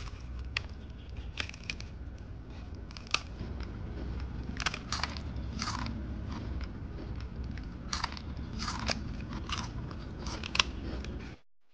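Crunchy sweet paskette pastries are bitten and chewed up close, giving sharp irregular crunches and crackles over a low steady background, with no talking.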